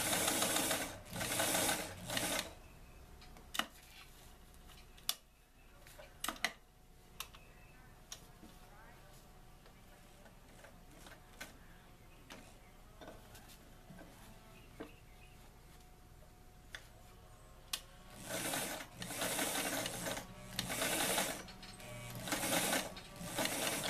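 Sewing machine stitching a pocket onto an 18-inch doll apron, running in loud steady bursts at the start and end with a quieter stretch of faint ticks and clicks between.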